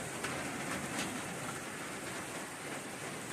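A heavy downpour of rain drums steadily on a trail shelter, a constant broadband hiss with scattered louder drops, fairly soft overall and with no voices.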